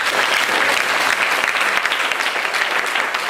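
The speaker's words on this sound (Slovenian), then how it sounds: "En aplavz, prosim." Dense, steady applause from an audience at a Russian-themed evening event, loud and continuous throughout with no pauses and no speech over it.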